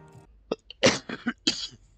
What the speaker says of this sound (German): Mann, mein Husten.